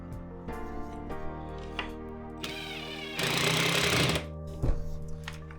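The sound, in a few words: driving tiny screws to mount a workshop shelf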